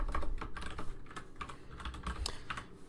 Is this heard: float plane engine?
no